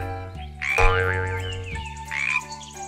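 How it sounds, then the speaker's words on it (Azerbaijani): A frog croaks in a children's animal fairy tale, giving a few drawn-out, bouncy croaks over a soft musical backdrop, with no talking. "Elə bu vaxt gözü qurbağaya sataşdı. Tullana-tullana harasa gedirdi."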